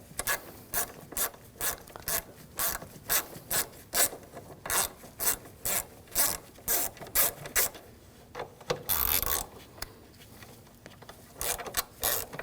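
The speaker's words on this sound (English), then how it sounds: "Use a 10mm socket," Ratchet of a socket wrench clicks in repeated short bursts while a 10mm socket removes the power steering reservoir nuts in the engine bay of a 2007-2013 BMW 328i 3.0L inline-six, close and clear with no talk.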